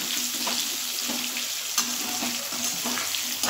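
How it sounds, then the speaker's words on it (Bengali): Potatoes with turmeric frying in hot oil, a steady loud hiss and crackle filling the whole stretch with occasional stirring knocks. "আলুটা যেন সাদা সাদা না থাকে, সেই জন্য একটু হলুদ দিয়ে আলুটা ভালো করে ভেজে নেব।"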